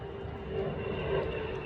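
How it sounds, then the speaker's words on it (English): A plane passes overhead above a forest, a faint, steady low engine drone that swells slightly, heard from a distance without voices. "plane going over."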